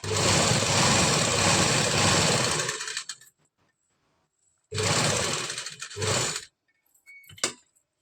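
A sewing machine stitches a loose basting seam around a kameez neckline, running in two close, loud bursts of rapid stitching separated by a quiet pause, with brief faint clicks at the end.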